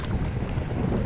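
Strong wind buffeting a microphone while cycling outdoors, a dense, continuous low rumbling roar that stays loud and steady throughout the brief moment, with no voices.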